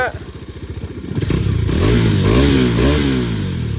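A Bajaj Dominar 400 motorcycle with a 373.27cc engine and an Akrapovic full-system exhaust idles with a loud, pulsing burble, then revs up into a rising, throaty roar that wavers as the throttle is blipped, close to the bike.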